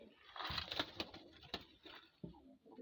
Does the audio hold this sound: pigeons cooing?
yes